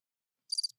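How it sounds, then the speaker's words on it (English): A short burst of cricket chirps, a single quick trill of rapid pulses standing alone in otherwise silent air, dropped in as a comedic beat during a podcast. "Crickets."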